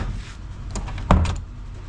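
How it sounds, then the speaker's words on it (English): A garage door is pulled shut indoors, giving a single solid thud and a brief rattle over a low background rumble. "I'm gonna shut this door so it doesn't get too cold in there."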